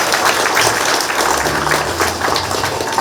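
Applause at a campaign office opening ceremony for a People Power Party candidate for mayor of Gumi: a dense, steady clapping from a sizeable indoor crowd holds at full volume throughout.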